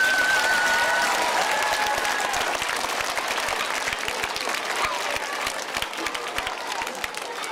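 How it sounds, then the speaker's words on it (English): Elementary school audience applauding its teachers at a morning assembly, a loud sustained wash of many hands clapping that thins slightly toward the end, with a brief cheer or whistle near the start. "Let's give your teachers a big clap here this morning"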